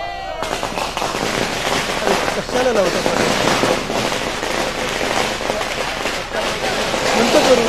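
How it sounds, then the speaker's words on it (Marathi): Rapid crackling bursts of firecrackers going off continuously, dense and loud, with a crowd and voices mixed in. "फटाके बंद करा।"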